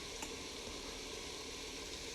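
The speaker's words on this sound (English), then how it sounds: "onion mixture has been frying for quite some time now and is starting to turn brown" Onion mixture seasoned with grated peppercorns and Himalayan pink salt frying in a Ninja cooker for chicken biryani, a steady, dense sizzle that holds evenly throughout with no talking.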